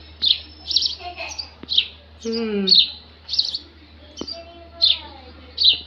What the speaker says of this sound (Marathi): इकडे चिमणीचं बघा काय चाललंय